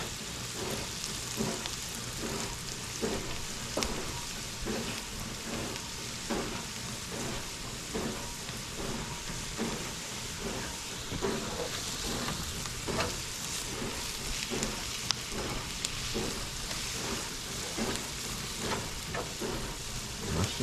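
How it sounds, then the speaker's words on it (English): Mushrooms fry in butter in a pan, giving a steady, dense sizzle with crackling pops and occasional stirring scrapes that runs unbroken for about twenty seconds. Nobody speaks over it. "I'm gonna add the mushroom to cook up in the butter"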